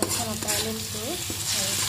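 Shukloti dried fish frying in a pan is stirred with a steady close scraping over a soft sizzle, with some thin squeaky tones mixed in.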